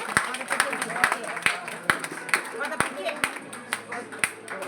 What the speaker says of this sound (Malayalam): കൈയടിക്കൂ, എല്ലാവരും കൈയടിക്കൂ.